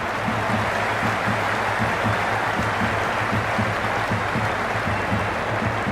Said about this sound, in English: It's evident and ever so audible that the crowd is at near bursting point at today's play